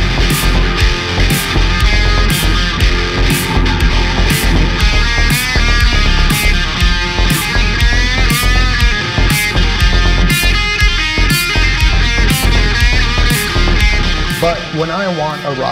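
Electric guitar through an Ibanez TS Mini overdrive pedal with the overdrive turned up for a rock bluesy tone, a dense loud riff played over a steady beat with regular hi-hat hits, no talking.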